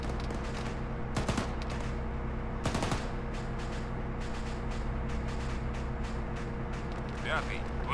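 Gunfire in the military shooter Arma 3: a few sharp broadband shots around one and three seconds stand out over a steady low rumble of background battle noise, with a voice talking over it.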